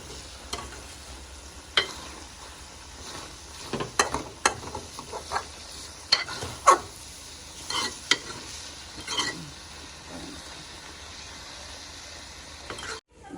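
Intestine curry pieces sauteing in oil in a home kitchen: a faint sizzle under irregular scraping clicks and taps of a spatula stirring the pan.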